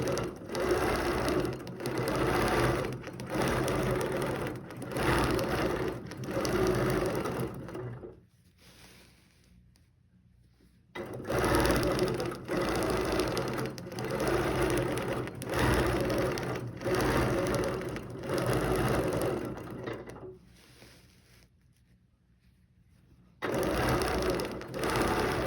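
A sewing machine stitches a dense thread design built up in the center, running in loud, steady bursts with two short pauses where it falls nearly quiet before starting again.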